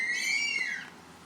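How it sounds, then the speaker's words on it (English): A parrot gives a single rising-and-falling whistled call, fairly clear and close, fading out after about a second with no one talking. "Listen to the bird noises."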